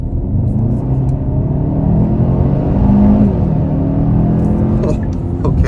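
2023 Kia Sorento EX pulling hard in second gear, a steady engine drone and road rumble from inside the cabin that swells slightly as revs climb, continuous throughout.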